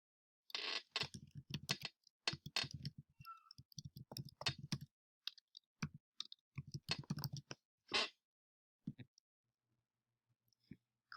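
A computer mouse clicks close up in irregular clusters of quick taps with short pauses between, fading to near silence at the end.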